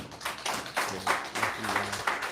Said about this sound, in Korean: 우리 다 같이 환영의 박수 한번.